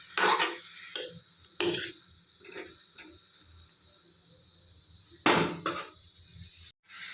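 Chopped pineapple stirred in a pan with a spoon produces a few sharp scrapes and knocks in irregular bursts over a faint sizzling hiss, close and fairly quiet with no talking.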